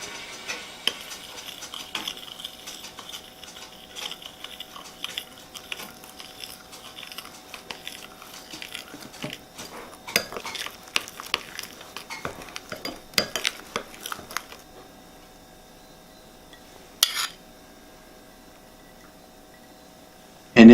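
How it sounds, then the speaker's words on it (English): A spoon stirs cocoa powder with boiling water in a bowl, with scraping and light clinking against the bowl over about fifteen seconds, then quieter with an isolated clink near the end, no talking. "Take your cocoa powder and put it in a separate bowl and slowly add your boiling water"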